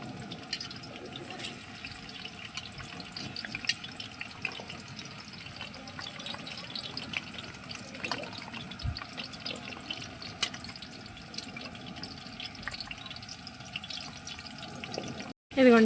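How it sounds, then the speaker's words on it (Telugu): Chopped onion and green chilies sizzle in hot oil in a pan for chicken curry, a continuous crackling hiss with scattered pops, ending in a sudden short clatter. "ఇప్పుడు ఉల్లిపాయ పచ్చిమిర్చి వేసేస్తున్నాము"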